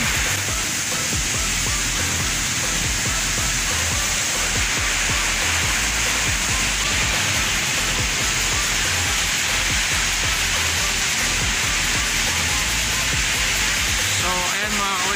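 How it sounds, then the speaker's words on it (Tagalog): Fresh water hosed across a ship's cargo hold during hold washing, a steady loud broadband rush of spraying and splashing water that runs unbroken throughout, with faint voices under it. "pagkatapos po niyan eh babanlawan ng fresh water para maging maayos yung resulta ng washing"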